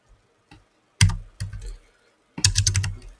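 Haskell code being typed on a computer keyboard, with short bursts of close, crisp key clicks separated by brief pauses.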